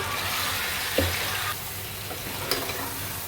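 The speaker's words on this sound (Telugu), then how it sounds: "ఆయిల్ వేసుకొని ఇది మొత్తం వేసేసుకోవాలి మధ్య మధ్యలో కలుపుకుంటూ ఉడికించుకోవాలి" Ingredients for a country-chicken (naatu kodi) biryani fry in oil in a pan, giving a steady broadband sizzle with a couple of brief stirring clinks, close and moderately loud with no voices.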